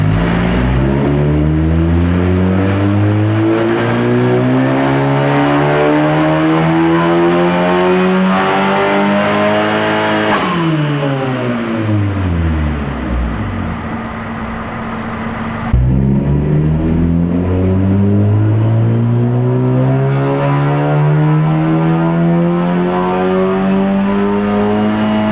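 Big turbo 2018 Honda Civic Si on a dyno, its engine revving loud and close through rising pulls, easing off midway, then climbing through the gears again, alone with no talk.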